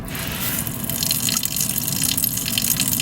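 Water runs steadily from a faucet in a constant loud gush with spattering drips, a full, unbroken flow with no voices.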